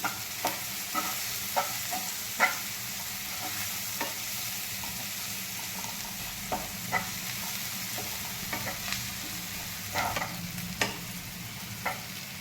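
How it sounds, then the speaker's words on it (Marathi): Onion frying in a pan until browned for a bhaji, producing a soft continuous sizzle broken by light, frequent spatula taps and scrapes, fairly quiet and close, with no one speaking. "तर आपल्याला हा कांदा चांगला परतून घ्यायचा आहे तांबूस रंगाचा होईपर्यंत।"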